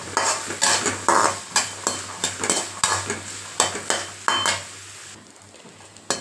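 Turkey berries fry slowly in a pan while a spoon scrapes and knocks against the metal in a rhythm of about a dozen clinks, over a low sizzle that fades near the end.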